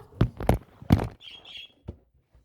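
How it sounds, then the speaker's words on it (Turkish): Birds in the Granny: Recaptured horror video game give two short, harsh squawks in quick succession, following a few dull thumps and footstep-like knocks. "Bu kuşlar ikide bir bağırıyor arkadaşlar ya."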